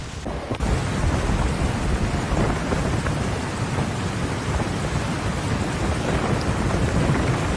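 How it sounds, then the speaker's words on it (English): Torrential typhoon rain lashes a Chinese city, a loud, unbroken roar of downpour with deep thunder rumbling through it, no voices present. "torrential rain unleashed severe flooding across the Chinese"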